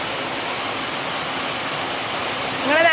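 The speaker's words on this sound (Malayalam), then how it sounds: "ഭയങ്കര സൗണ്ടാണ് ഇവിടെ ഷീറ്റിൻ്റെ" Heavy rain drums on a metal sheet roof above a sit-out, a loud, dense, unbroken roar that surges briefly near the end.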